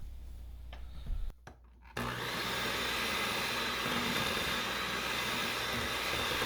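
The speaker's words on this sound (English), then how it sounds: "we'll go ahead and beat in that egg" An electric mixer beats an egg into a cheesecake base batter. After a brief quiet start, the motor kicks in as a loud, steady whir that runs on unbroken with no talking.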